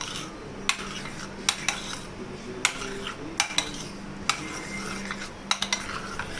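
Spoon scraping and clinking in a bowl while tossing cocktail platter ingredients with sauce and honey, a run of sharp, close metallic taps over soft stirring.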